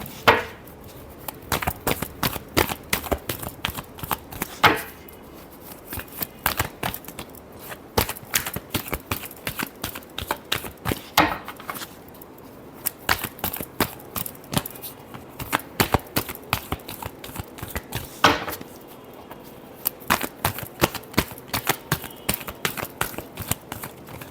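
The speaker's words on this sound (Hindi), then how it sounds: "Last shuffle." Tarot cards being shuffled in a steady run of sharp, rapid riffling clicks and flutters, close and fairly loud, continuing through with brief pauses and no talk.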